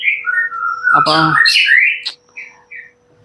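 A white-rumped shama sings clear, rising and falling whistled phrases, close and loud, with a short spoken word over the song and a steady low hum behind.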